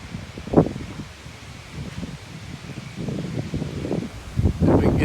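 Gusts of wind from Hurricane Idalia rustle through leaves, swelling and fading in uneven bursts, with a low rumble of wind buffeting the microphone.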